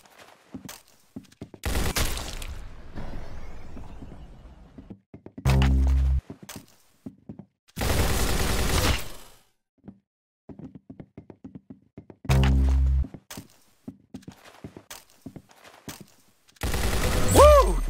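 Video game gunfire: loud bursts of automatic fire in several separated volleys, with sharp single shots, thuds and clicks between them and no talking.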